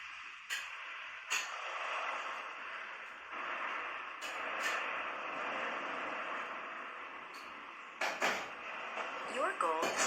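An intense weather soundscape from a Muse meditation headband: a steady rushing hiss broken by sudden sharp gusts and bursts, several clustered near the end, moderately quiet overall.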